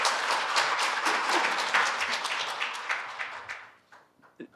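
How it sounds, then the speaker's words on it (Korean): An audience at a university academic forum claps warmly to welcome a speaker giving a congratulatory address. The dense applause holds for several seconds, then thins into a few scattered claps before fading. "박수로 또 축사를 드려보겠습니다."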